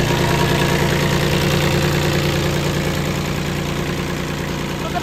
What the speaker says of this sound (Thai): ก็จะเป็นเครื่องคูโกต้า3สูบค่ะ